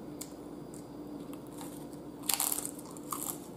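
Someone bites into a crunchy Jack in the Box Angry Monster taco shell, producing a couple of short, crisp crunches close to the mic over faint background hum.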